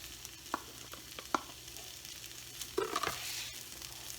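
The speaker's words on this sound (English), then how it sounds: "I let them to finish up once I add them here to the griddle" Potatoes frying on a griddle for fajitas, a soft continuous sizzle broken by a few scattered clicks and scrapes of a utensil, close and moderate in level, no talk.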